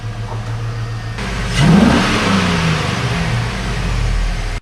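A GMT800-generation pickup truck engine idles nearby, then revs up with a rising roar as it pulls forward into a garage, settling back to a low rumble before cutting off.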